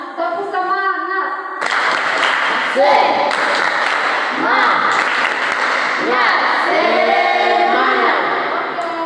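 A group of people claps together in a rhythmic spirit clap during a classroom ice-breaker, loud and close, with voices speaking and calling out over the claps.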